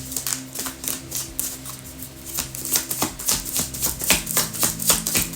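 A deck of tarot cards is shuffled by hand, producing a rapid series of crisp riffling clicks and flutters, close and fairly loud, with soft background music underneath.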